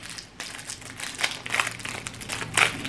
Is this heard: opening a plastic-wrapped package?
yes